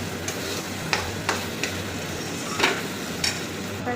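Spice masala fries in oil while being stirred for a prawn and jackfruit dish, giving a soft continuous sizzle with several sharp scraping clicks from the spoon, fairly quiet and with no voices.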